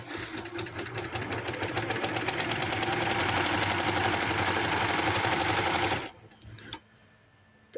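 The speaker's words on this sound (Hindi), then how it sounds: "तो इसी तरह मैं एंड तक इसको सिलाई लगा देती हूँ।" A sewing machine runs steadily while stitching the hem band of palazzo pants, a dense rapid needle clatter for about six seconds before it slows and stops, leaving a few faint handling clicks.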